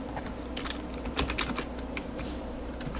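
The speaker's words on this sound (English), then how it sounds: "You can just type it up." Fingers type on a computer keyboard in quick, uneven bursts of close clicking keystrokes, with a brief flurry of faster taps midway and no voices.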